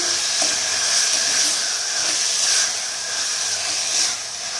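Steady sizzling of flat beans, eggplant and potatoes frying in a pan, with soft scraping as they are stirred, continuous and close, no voices.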